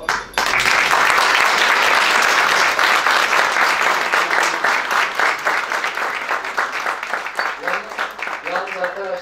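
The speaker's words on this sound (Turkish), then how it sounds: "benim bu muhteşem insanları Bayrampaşa'da iyi bir alkışlayalım" Loud crowd applause at an Istanbul chartered accountants' chamber event in Bayrampaşa, dense clapping that starts abruptly and gradually thins toward the end as a voice comes in.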